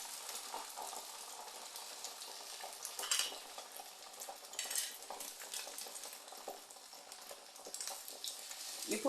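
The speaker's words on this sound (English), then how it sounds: "do you see how it's frying my egg for me?" An egg fries in oil on a chapati maker, giving a steady close sizzle with brief clinks and stirring clatter over the top.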